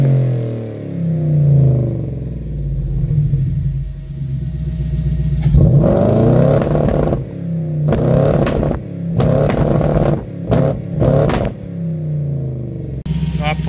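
Toyota Hilux engine at operating temperature on launch control, a low idle rumble that gives way to several sharp bursts of revving with popping, loud and close, with some chatter under it.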